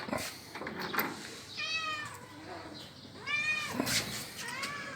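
A cat meows two or three times, close and clear, over a noisy outdoor-sounding background at a home in Luxor, Egypt, with a person's voice faintly present.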